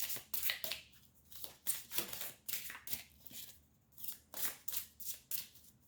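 Playing cards riffled and shuffled by hand in a card-reading session, a steady run of close, crisp flurries at a quiet level with no talking.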